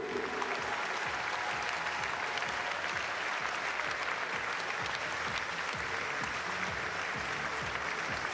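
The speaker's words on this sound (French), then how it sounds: "Vos applaudissements s'il vous plaît pour le podium de ce tableau simple, messieurs." Spectators at the French table tennis championships applaud the men's singles podium with steady, sustained clapping from a large hall, even and moderately distant throughout.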